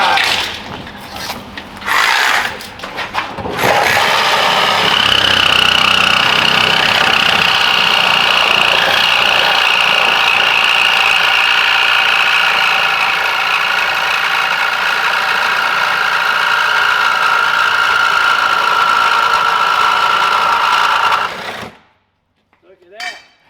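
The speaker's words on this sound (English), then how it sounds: "Probably actually be laying in there with the sawzall for this one." A sawzall reciprocating saw cuts metal on an ISS Enduro racecar, a loud, steady rasping buzz that runs for about seventeen seconds after a few bursts of handling noise, then stops abruptly.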